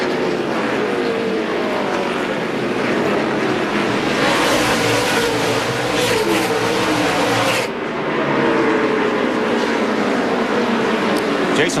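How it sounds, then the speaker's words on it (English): NASCAR Craftsman trucks roll toward the green flag at Martinsville in the 2002 Advanced Auto Parts 250, a dense, loud, continuous engine roar with crowd noise that swells mid-clip, briefly dips, then surges again. "DW, here they come, rumbling to the green flag."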